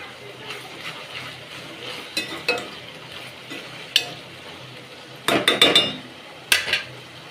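Onions cooking in a pan for a Godavari-style prawn curry as green chillies are tossed in, soft sizzle under scattered clinks and scrapes of a spoon against the pan, a few louder stirring knocks toward the end.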